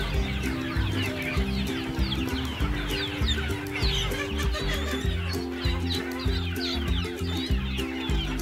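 Free-range farm chickens cluck continuously in a busy, layered chorus, close and fairly loud, with scattered chick peeps and occasional sharper calls over a steady background hum.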